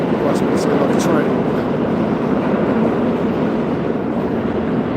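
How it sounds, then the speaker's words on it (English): A train goes by nearby as a steady, loud rumbling roar that holds through the whole stretch. "There's another train right there."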